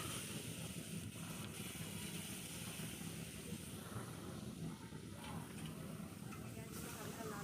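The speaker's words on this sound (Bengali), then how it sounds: "পেঁয়াজটা আমি হালকা লাল লাল করে ভেজে নেব।" Chopped onions fry in hot oil left over from frying fish, a steady close sizzle with soft stirring, broadband and unbroken throughout with no talking.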